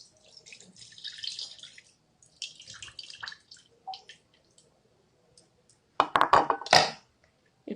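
Water is poured and splashed in short bursts while baby food ingredients are washed, with drips and clinks of a bowl between pours and a louder splashing rush near the end.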